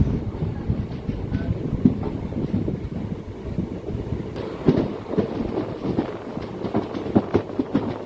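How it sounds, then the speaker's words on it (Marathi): The Dadar Satara Express at Sangli railway station gives a steady, close rumble of rolling stock and station noise, with scattered knocks and clatter throughout and some wind buffeting on the microphone. "दादर सातारा एक्सप्रेस सांगली रेल्वे स्टेशनवरती बारा वाजता पोहोचलेली आहे"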